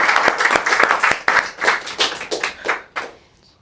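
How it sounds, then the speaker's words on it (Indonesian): A small studio audience claps at the start of a comedy quiz game show, fast crisp handclaps close to the microphone that thin out and stop near the end. "Tepuk tangan dulu dong."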